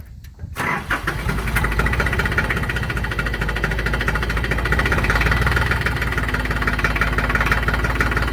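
A Hinomoto 3-cylinder 1.5 liter engine cranks and catches within the first second, then settles into a steady, loud, close-up idle with an even throbbing rhythm, with no voices.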